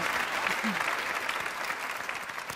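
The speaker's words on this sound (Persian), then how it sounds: "تشویق بکنی یه بار دیگه استاد رزوانو" Studio audience on a Persian-language TV talk show clapping, a dense burst of applause that carries on steadily and close.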